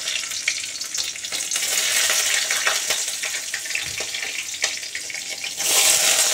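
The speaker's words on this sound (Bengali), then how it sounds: "তেলটা গরম হয়ে গেলে একটু সিম করে দিয়ে কালো জিরে দিলাম, 2 কাঁচা লঙ্কা দিলাম ফোড়নে" Nigella seeds and two green chillies sizzle in hot oil as a tempering, a steady close crackle with scattered pops that swells louder near the end; no voices.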